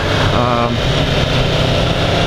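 A 2015 Yamaha R1 motorcycle engine hums steadily while riding, a loud continuous drone with wind noise and no clear revving.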